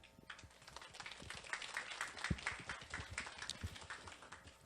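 An audience at a school information session applauds to welcome a teacher, a modest, fairly quiet patter of clapping hands that carries on steadily for a few seconds.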